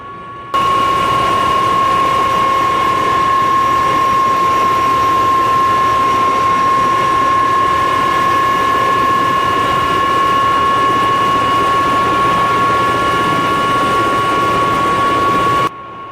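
A Bell 407 helicopter turbine engine in the X-Plane flight simulator spools down toward idle. It gives a loud, steady whine with a constant high tone over a broad rushing roar and runs unbroken throughout.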